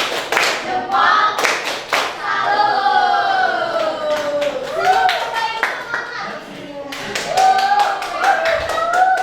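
Students in a classroom do a rhythmic clapping cheer, sharp claps in quick patterned bursts alternating with children chanting, loud and close.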